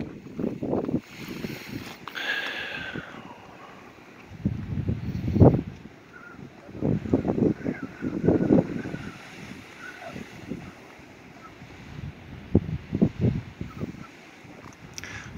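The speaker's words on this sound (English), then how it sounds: "Extremely windy today. We're getting about 23 mile per hour winds with higher gusts." Strong gusty wind of about 23 mph buffeting the microphone outdoors in Quartzsite, Arizona, coming in loud rumbling bursts that rise and fall with calmer gaps between gusts.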